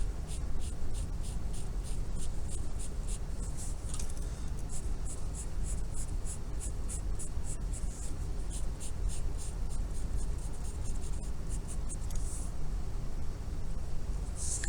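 Pencil cross-hatching on paper, shading in a dark area of a pair of scissors drawing: steady rapid back-and-forth strokes scratching close up in a continuous rhythm, with no voice.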